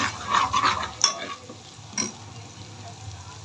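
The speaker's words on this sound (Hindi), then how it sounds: "अब हम 1 टीस्पून इसमें ज़ीरा डालेंगे।" A teaspoon of cumin seeds tipped into a hot pan with ginger-garlic paste, giving a short stir and clatter, then a soft steady sizzle as they roast; close and moderately quiet.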